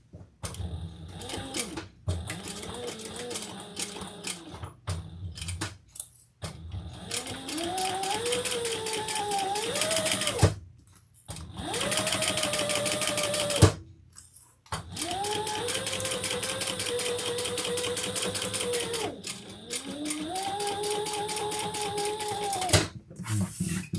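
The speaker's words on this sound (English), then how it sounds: "Okay, now we're going to top stitch." A sewing machine top stitching a leather and vinyl crossbody bag, running in long steady whirring bursts with rising and falling motor pitch, separated by brief pauses and clicks.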